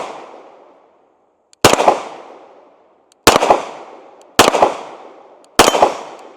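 Four sharp pistol shots from a Sig P320 SXG fired at a measured pace, each a loud close crack with a short ringing tail, separated by brief quiet gaps.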